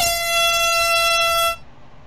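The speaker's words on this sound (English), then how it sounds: "Air horn prank." A single loud, piercing air horn blast, held for about a second and a half before cutting off sharply.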